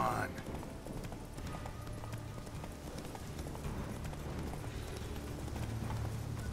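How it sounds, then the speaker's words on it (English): A horse gallops in The Witcher 3, its hooves pounding in a quick, continuous clip-clop rhythm at moderate loudness, with talk over it. "Yeah, damn horse, of course."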